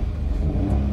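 A Maruti Alto engine runs steadily, heard from inside the cabin with the air conditioning switched on, a low, even rumbling hum with no talk over it.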